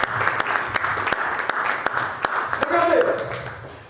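Church congregation applauding, a dense steady wash of clapping with a few sharp distinct claps and crowd voices mixed in, swelling slightly toward the end.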